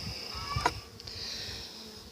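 Honey bees buzzing around a weak hive during a hive merge, a steady close drone with a brief louder swell of wings near the middle.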